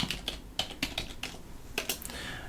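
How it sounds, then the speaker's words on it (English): Fast typing on a computer keyboard while searching on a Linux desktop, a steady run of close, crisp key clicks with a few sharper strokes and no talking. "let's keep typing, Eric, ArcoLinux,"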